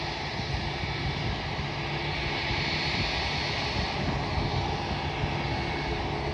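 Airliner taxiing at Auckland Airport heard as a constant, fairly distant jet engine roar with a steady broadband hiss and no breaks.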